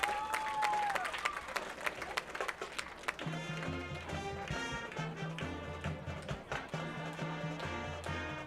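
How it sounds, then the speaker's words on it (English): Spectators in the stands at a varsity football game applaud the Marionville Comet Pride marching band, scattered crowd clapping that continues as the band's drums and brass start up beneath it. "let's have a nice round of applause for your Marionville Comet Pride marching band"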